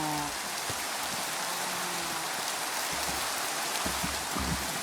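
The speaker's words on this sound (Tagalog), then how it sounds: "Umuulan pa kasi. Mas mahirap. Mas mahirap pag umuulan." Steady rain falls in the Minecraft video game, a constant dense hiss of drops with no break, plus a few faint low in-game tones and thumps underneath. Nobody speaks.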